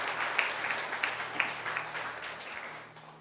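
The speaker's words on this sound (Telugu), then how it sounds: "అందరూ చప్పట్లు కొడుతూ దేవుని మహిమపరదా" A Sunday church congregation claps together, producing a broad, even patter of many hands with a few sharper beats, fading gradually toward the end.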